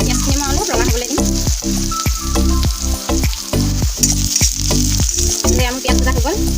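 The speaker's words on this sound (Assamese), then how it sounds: "এয়া মোৰ পিঁয়াজ ভজা হৈ গ'ল" Onions frying in a pan, browning for a soybean dish: a loud, steady sizzle broken by rhythmic scraping strokes of a spatula about every half second, close up, with some faint talking in the background.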